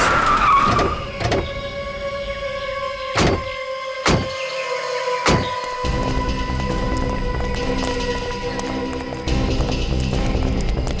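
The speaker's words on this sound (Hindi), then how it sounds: "ठीक है, गाड़ी यहीं रोक।" A car pulls up and stops at the edge of a forest, with a short tyre skid followed by several sharp thunks and door-like knocks spaced over the next few seconds, then a settled idle hum.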